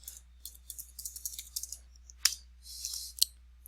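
Light clicks of keys being typed on a computer keyboard, a quick uneven run of taps followed by a few separate presses, including the Tab key, faint and close in a quiet room.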